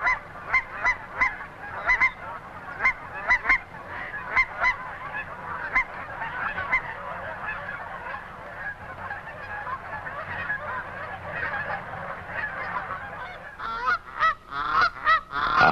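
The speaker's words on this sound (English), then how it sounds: "The call of the cackler is distinctive and is the best way to identify cackling geese." A flock of cackling geese calls nonstop at close range, a dense chorus of high, yelping honks repeating in quick bursts and growing louder and busier near the end.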